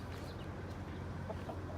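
Young pullets and cockerels cluck steadily in a backyard flock, a continuous close murmur of soft clucks and chatter with no talk over it.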